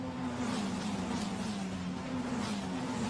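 Formula Renault Eurocup single-seaters race at Imola, a loud, steady high-revving engine drone with a sustained tonal whine as the pack sweeps toward the line, dense and continuous throughout.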